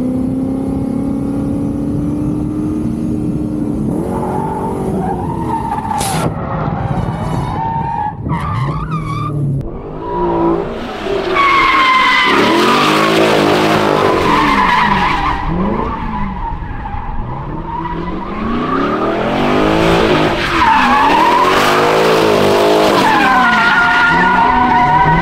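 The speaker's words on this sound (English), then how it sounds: "What do you think of Julien's drifting so far?" A Corvette C6 drift build skids through repeated long tire squeals, loud and close, with its engine revving and surging between slides throughout.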